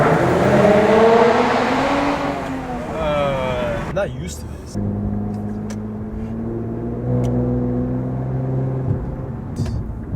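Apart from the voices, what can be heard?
neighbouring car's exhaust revving and downshifting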